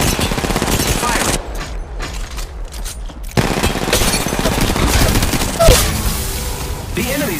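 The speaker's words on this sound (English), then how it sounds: "The enemies are shooting at me." Gunfire in the Apex Legends Mobile video game, rapid bursts of automatic shots packed into dense rattling volleys, with a brief lull, then more firing and a sharper boom, loud and close, with game voices underneath.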